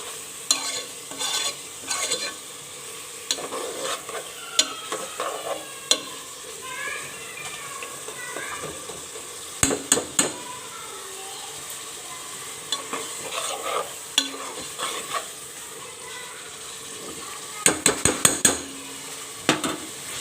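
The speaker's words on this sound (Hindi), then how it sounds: "अब मैंने इसको अच्छे तरीके से भूनना है इसके अंदर।" Boiled chickpeas are sautéed in masala in a pan for murgh cholay, a soft sizzle beneath repeated sharp clinks and scrapes of a spoon on metal.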